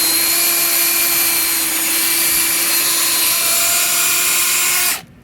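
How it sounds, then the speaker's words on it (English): A power drill runs steadily into wood for an outdoor TV stand, a loud continuous whine with a constant pitch that holds for about five seconds and then stops abruptly. "More drilling."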